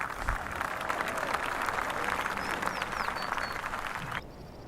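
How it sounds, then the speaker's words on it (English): Crowd applause ripples through a golf course gallery in PGA Tour 14 as an approach shot rolls off the back of the green, steady clapping for about four seconds before cutting to quiet ambience. "Despite the reaction from the crowd, I guess they couldn't see how bad it was"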